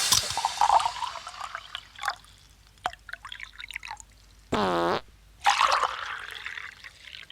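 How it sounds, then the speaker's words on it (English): A fart followed by urine splashing into a urinal, heard as a short broadband burst and then a dripping, trickling stream of liquid with brief pauses between splashes, close and fairly loud. "That's the urinal fart."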